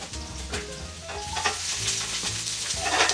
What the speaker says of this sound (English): I'll also be frying down some red onions to go on top of my steak.